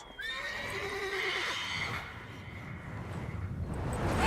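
A horse in the Witcher 3 video game neighs and whinnies near the start, a rising, shaky call that fades out over a second, with a steady outdoor hum underneath.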